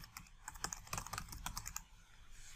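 Rapid keyboard typing on a computer keyboard while entering text in Microsoft Word, a quick uneven run of close, crisp key clicks with no voice.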